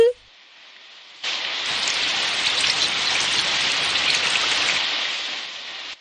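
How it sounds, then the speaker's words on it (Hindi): In an animated Hindi-dubbed anime scene, after a moment of quiet, a steady heavy rain starts and hisses continuously, loud and close, then cuts off at the end. "अरे देखो बारिश होने लगी है।"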